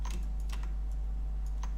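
A few light, scattered key clicks from a computer keyboard, tapped while entering values in design software, sit over a steady low electrical hum.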